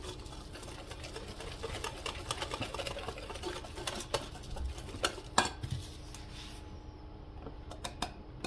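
A spoon stirs thick beignet batter in a bowl, giving soft scraping and clinking against the bowl's sides in an uneven rhythm, with a few sharper knocks, close and moderately quiet, with no talking.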